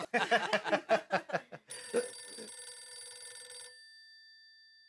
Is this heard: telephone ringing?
yes